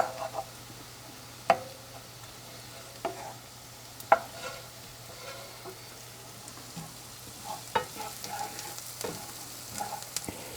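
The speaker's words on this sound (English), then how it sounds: "This mushroom needs to be mixing again, up and down, so to saute all of them at the same time." Mushrooms sauté in a pan while being stirred, giving a faint low sizzle broken by occasional sharp clicks and scrapes of the utensil against the pan, with no talk.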